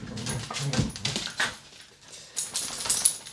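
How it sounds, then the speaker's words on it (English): Several dogs or puppies play-fight and wrestle close by, with bursts of growling, whimpering and yips in uneven clusters, separated by short quieter gaps. "The dogs are just literally mauling each other."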